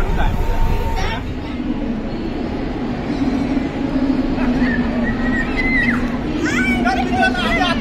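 A suburban train carriage travelling from Dombivli toward CST station in Mumbai, with a steady loud rumble and rattle throughout, and children and other passengers chattering close by.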